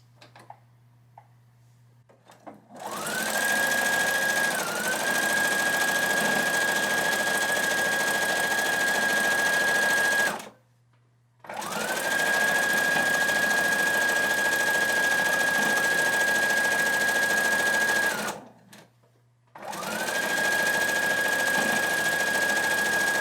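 A sewing machine stitches a modern mini quilt at a reduced speed, with a steady mechanical whir and hum in three long runs separated by short pauses.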